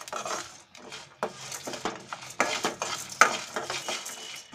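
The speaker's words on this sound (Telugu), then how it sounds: "1/2 టీ స్పూన్ ఆవాలు, 1 టీ స్పూన్ జీలకర్ర కూడా వేసి వేయించుకుందాం." Mustard seeds and cumin seeds frying in a pan, sizzling and crackling while a utensil stirs and scrapes in irregular strokes, close and fairly loud, with no talking.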